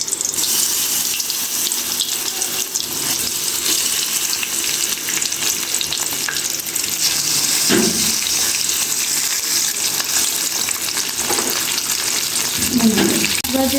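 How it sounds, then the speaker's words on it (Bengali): Fish frying in mustard oil in a wok gives a steady, loud, dense sizzle that runs the whole time, with occasional clinks and stirring sounds near the end. "কড়াইতে সরিষার তেল দিয়ে দিয়েছি। এখন আমি মাছ ভাজি করব।"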